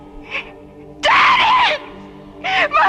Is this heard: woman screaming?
yes